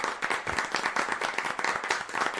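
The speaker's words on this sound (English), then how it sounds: "I like the polite applause here" Polite applause from a cricket crowd at an IPL match between SRH and GT, a steady, moderate patter of clapping sustained for a couple of seconds, somewhat distant and subdued.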